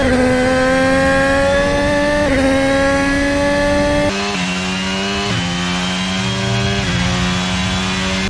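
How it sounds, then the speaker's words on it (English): A modded Formula 1 racing car engine in the Assetto Corsa video game screams at high revs, with pitch climbing through gears and dropping sharply on upshifts, loud and alone. "There are even car sound packs recreating the Honda engines, Mercedes, Renault, Ferrari, etc."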